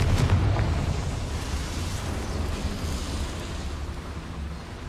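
A Confringo spell blast in the Hogwarts Legacy video game, a loud, close burst at the start that settles into a dense, rumbling roar that holds steady and fades slowly.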